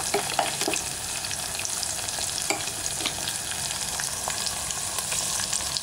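Ground masala fries with sautéed sambar onions in a pan, a loud, dense sizzle layered with frequent spatula scrapes and light knocks throughout.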